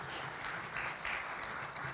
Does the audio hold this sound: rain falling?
no